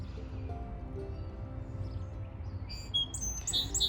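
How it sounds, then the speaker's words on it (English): A sparrow sings in a spring garden in May, small high chirps that grow clearer toward the end over a steady low rumble of background noise. "Yeah, you hear that sparrow singing."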